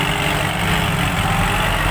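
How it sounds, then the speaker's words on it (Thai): A tractor pushes through thick mud, its heavy engine holding a loud, steady, unbroken drone from start to finish with no voices over it. "ตอนนี้รถไถจะลุยแล้ว"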